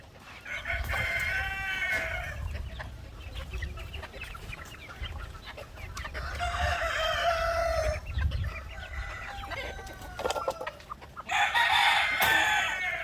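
Native chickens crowing repeatedly at close range, long drawn-out calls separated by pauses, over a low rumble of outdoor background noise.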